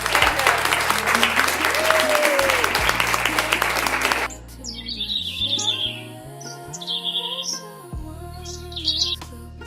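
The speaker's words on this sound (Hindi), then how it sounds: "कुछ पल की खामोशी के बाद पूरा मैदान तालियों की गड़गड़ाहट से गूंज उठा।" Cartoon crowd filling a stadium with thunderous applause, dense and loud for about four seconds beside bird chirps, then cutting off to quieter tweeting and music-like tones.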